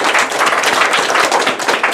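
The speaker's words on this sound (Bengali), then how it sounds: "তালি, আবার তালি" A crowd at an Eid reunion gathering breaks into loud, dense applause, with many hands clapping continuously and close.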